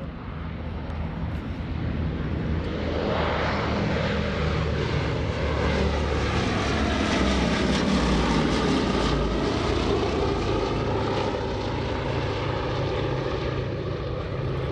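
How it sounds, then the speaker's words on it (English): A Boeing B-17 bomber flies overhead at a World War II airshow weekend, its propeller engines building into a loud, continuous drone that swells and sweeps past for the whole stretch, with no talk. "here comes the B-17"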